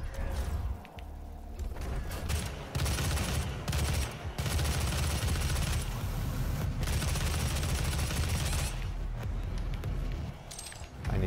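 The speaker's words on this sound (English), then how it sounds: "Because I love automatic weapons." Automatic weapon fire in a PS4 video game bursts in long rattling volleys, broken by short pauses and mechanical clicks, loud and close throughout.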